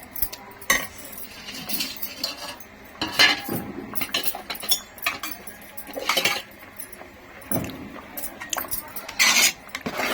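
A spoon stirs semiya sweet in a metal pan, making repeated scraping clinks and knocks against the pan at an irregular rhythm, close and clear with no talking.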